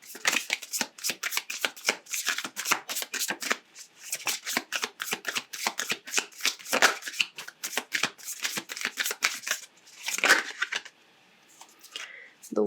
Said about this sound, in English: let's pull a couple of oracle cards and see if there's anything they would like to add.